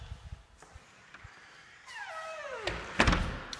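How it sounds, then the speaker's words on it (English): A residential garage door runs with a rising mechanical whine and sweeping motor tone, then clunks and thuds as it moves, heard fairly close in a quiet garage. "show you that the garage door works"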